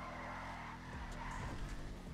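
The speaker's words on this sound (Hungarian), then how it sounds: "Végre egy autó, ami elég jó driftel." A car drifts in a GTA video game, tires squealing over a loud, steady engine roar that grows rougher toward the end, with no talking.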